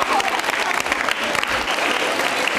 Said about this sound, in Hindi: तालियां बजाइए जोरदार तरीके से